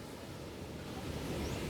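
Sea surf at Fatima beach's surfing area under gloomy, stormy weather, a continuous broad roar of waves and wind buffeting the microphone, swelling slightly louder toward the end.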